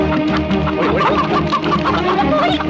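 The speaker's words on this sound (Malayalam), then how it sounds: "കോഴി. ഞാൻ വളർത്തുന്ന കോഴിയാ." A hen clucks repeatedly at close range, short nasal calls tumbling over a steady low background hum.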